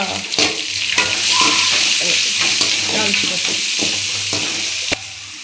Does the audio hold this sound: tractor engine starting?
no